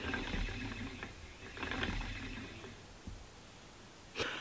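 A spinning wheel winds freshly spun BFL and alpaca blend yarn onto its bobbin, giving soft whirring and clicking mechanical bursts that come and go, close by, with a brief louder rustle near the end.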